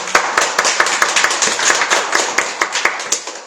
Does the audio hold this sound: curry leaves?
no